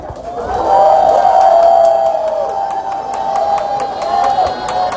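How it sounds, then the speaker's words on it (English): Drag show crowd cheering and applauding as a performer takes the stage, a steady loud roar of whoops and clapping with a sustained tone running through it. "please keep that applause rolling"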